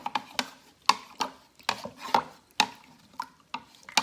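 A spoon stirs turkey wing gravy in a pot, giving about a dozen short scraping strokes in a steady rhythm, close and fairly quiet.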